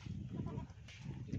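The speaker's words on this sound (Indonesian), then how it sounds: "Kalau ini kambing yang masih kecil" A young goat kid at a decorative-goat contest setting bleats repeatedly and close by, its cries loud and steady across the short stretch with no talking.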